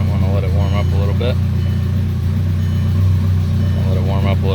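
A 2002 Volkswagen ALH TDI diesel engine idles cold with a steady, loud low rumble. A voice talks over it throughout.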